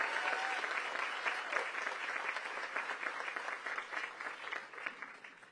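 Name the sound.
audience applause at ribbon cutting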